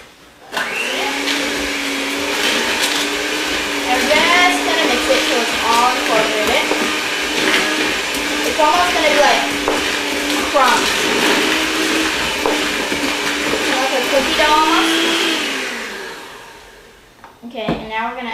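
An electric hand mixer beats carrot cake batter with butter and eggs in a bowl, a steady loud whir lasting most of the clip with brief pitch wobbles, then stopping near the end; a voice is heard faintly under it.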